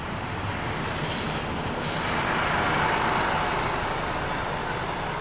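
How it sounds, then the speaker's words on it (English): A small passenger train bound for Bangkok rumbles along steadily nearby, with a thin high wheel squeal running over the loud, continuous rolling noise. "So this is a little bitty train right here."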